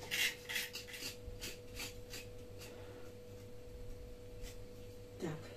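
Knife scraping and trimming a burnt crust from a baked Easter paska loaf in a home kitchen in Zaporizhzhia, Ukraine, a series of short rasping scrapes early on, faint and close, with a steady background hum.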